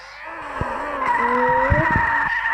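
Tires squeal in a car drift within a video game, a loud rising engine whine layered with screeching skids and a few sharp thumps.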